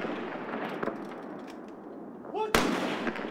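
A single sharp gunshot cracks out during a ROK Army special mission group live-fire exercise at a 300 m range, loud and abrupt after a stretch of steady outdoor noise, with a brief shouted call just before it.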